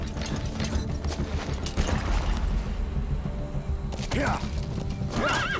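A horse neighs and whinnies in the video game Metal Gear Solid V, with clip-clop hooves and mechanical ratcheting gear sounds, while someone talks over it throughout.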